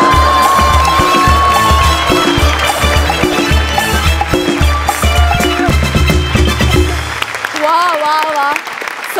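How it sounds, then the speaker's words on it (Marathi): A live studio audience at a Marathi comedy show claps and cheers after a skit, a loud, dense wash of applause layered over thumping music, with voices joining in toward the end. "जोरदार टाळ्या"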